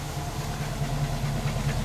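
A 1950 Buick Super with Dynaflow idles steadily and low with a soft, even exhaust rumble, continuous and fairly quiet throughout, no voices.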